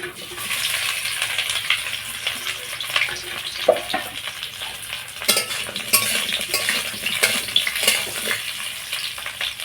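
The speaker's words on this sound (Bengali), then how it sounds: "তেলটা গরম হয়ে গেছে এবার কাঁকরোলগুলো ভেজে নেব" Teasel gourd pieces fry in hot mustard oil with a soft, continuous sizzle, broken by scraping and clinking as a utensil stirs the pan.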